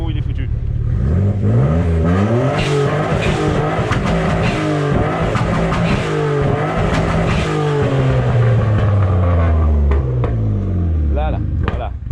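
A BMW 325i bi-turbo with a worn-out turbo revs in neutral, with repeated rising and falling engine sweeps, loud and close. Someone talks over the engine throughout.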